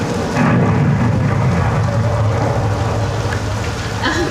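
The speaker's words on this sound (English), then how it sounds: "Rain is created by overhead sprinklers out of the camera." Loud, dense hiss of heavy artificial rain pouring down steadily from overhead sprinklers at a Universal Studios weather demonstration, continuous throughout with a low rumble underneath.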